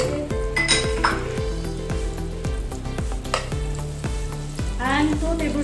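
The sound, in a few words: butter and sauce sizzling while frying in a pan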